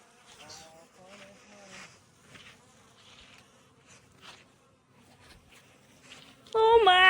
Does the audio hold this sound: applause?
no